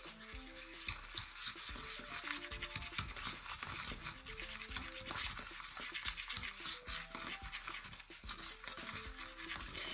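Sugar and shampoo slime is stirred in a bowl, giving a steady wet, sticky squelching and scraping that runs continuously at close range, with faint tonal sounds in the background.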